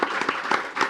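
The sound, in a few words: audience applause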